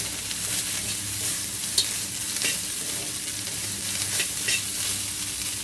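Fried rice with sausage and shrimp is stir-fried in a hot pan, giving a steady loud sizzle broken by scraping spatula strokes and brief clatters, with no voices.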